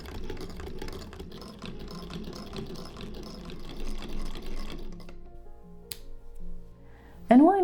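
A sewing machine stitches down a blouse button placket, a fast steady mechanical whirr of needle strokes for several seconds before it stops, followed by a few small clicks and a sharp final burst.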